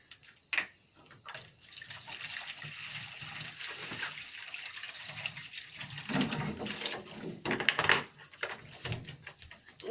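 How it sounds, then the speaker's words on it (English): Garden eggs are washed under a running tap, with a continuous splashing water stream broken by clunks and rubbing as the vegetables are handled. "Now I have to wash the garden eggs"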